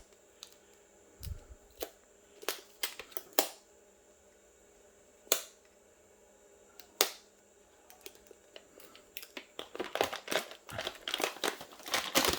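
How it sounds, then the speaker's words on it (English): Scotch tape is pulled off the roll and pressed onto a Gotrax electric scooter battery pack, making sharp ripping snaps and crinkly rustles in scattered bursts that grow denser toward the end, close and quiet. "Scotch tape."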